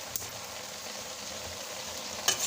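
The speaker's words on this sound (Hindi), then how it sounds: "इसकी हम अच्छे से भुनाई करेंगे" Turnip greens bhujiya stir-fries in a pan as a soft, steady sizzling hiss, faint and continuous, with a light clink near the end.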